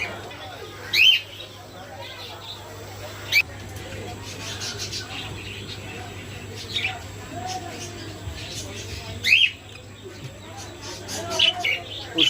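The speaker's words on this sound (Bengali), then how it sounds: "এত সুন্দর পাখিগুলা, ডিমের সাথে পাখিগুলো।" Pet lovebirds in a cage giving a few short, sharp high chirps spaced several seconds apart, close by, over a steady low hum and faint background noise.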